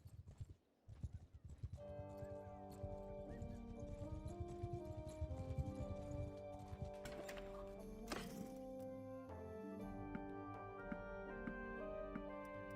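Horse hooves galloping in Bannerlord, a steady rhythmic clip-clop close by under a layer of tonal game music, faint overall, continuing for over ten seconds.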